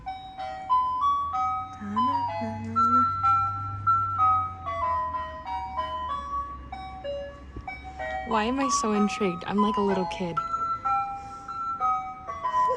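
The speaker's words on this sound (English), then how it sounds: "It sounds like an ice cream truck or something." A pink ice cream truck plays its chiming melody, a repeating tinkly tune heard from outside, while someone talks over it and an engine rumbles low early on.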